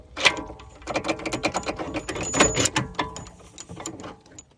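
Ratchet wrench bolting down a rear toe arm on a Tesla Model S or X, giving a close series of quick metallic clicks and clatters in irregular bursts, with no talk.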